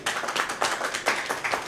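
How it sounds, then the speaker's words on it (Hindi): A seated audience gives short applause honouring a translator at a literary gathering about an Urdu poet, brisk uneven hand claps with a few pulsing swells, moderate in level and heard alone. "इस पर इनके लिए तालियां बजाई जाए"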